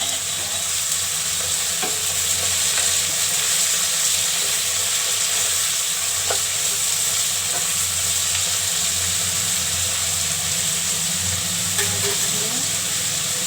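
Potato and eggplant curry sizzles steadily in a hot pan while a spoon stirs it, giving a continuous loud frying hiss with faint scraping taps, close up.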